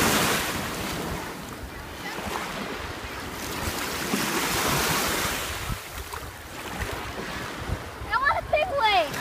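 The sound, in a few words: ocean waves on a beach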